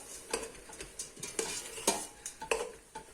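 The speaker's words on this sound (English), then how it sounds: "Okay, so give it a nice stir" A spoon stirs chicken mince samosa filling in a pan, scraping in irregular strokes, about a dozen in quick succession, over a faint sizzle, close and fairly quiet with no voices.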